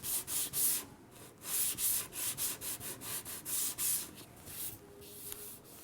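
A sanding block rubs back and forth over a guide-coated car body panel in quick, close, rhythmic strokes, each pass a soft rasp, with no voices.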